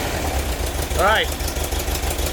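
A car engine idles with a lumpy, uneven low rumble that pulses steadily throughout, while a person speaks briefly over it.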